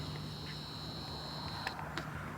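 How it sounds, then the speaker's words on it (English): Ducks at a lakeside give a few faint, distant quacks over a steady hum of outdoor background noise at sunset. "We got some ducks over here."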